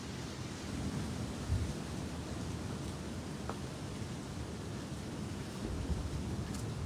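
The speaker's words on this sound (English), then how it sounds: "here comes the wind" Wind rising during a night storm under a tornado warning, a steady broad roaring rush buffeting the microphone throughout, loud and continuous with no talking.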